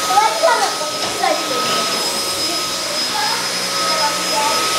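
A cordless stick vacuum cleaner runs with a steady, loud high whine, close by and continuous, while people talk faintly over it.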